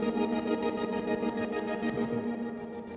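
Spitfire Albion Neo synth preset, a cold, shimmering sustained pad with a rapid pulsing gated texture, steady and moderately loud with no voices.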